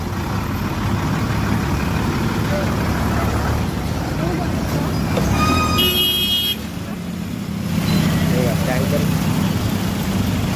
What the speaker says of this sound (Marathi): हजारो गाड्या जातात.